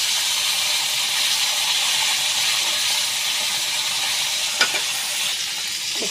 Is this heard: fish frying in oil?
yes